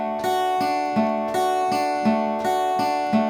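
An acoustic guitar plays an arpeggiated chord, picked as upstrokes beginning on the highest string, in a steady repeating three-note pattern with ringing notes, played alone at moderate volume.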